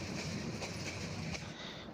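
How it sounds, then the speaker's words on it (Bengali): The Kishoreganj Express rumbles at Narsingdi railway station, a brief, steady low roar of rolling wagons with faint rhythmic wheel clatter, fairly close. "হয়তো আর কিছুক্ষণ পরেই কাঙ্ক্ষিত ট্রেনটি নরসিংদী জেলা নরসিংদী রেলওয়ে স্টেশনে প্রবেশ করবে"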